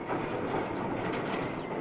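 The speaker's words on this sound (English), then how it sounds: "2 flat trucks with wire drums on them, paying out the wire as the train moves slowly forward." A slow-moving 1960s overhead-line wiring train, two flat trucks carrying wire drums paying out catenary wire along the railway, gives a steady, close rumble and rattle of rolling stock with faint clickety-clack throughout.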